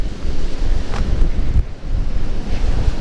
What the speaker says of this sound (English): Horrible southwesterly wind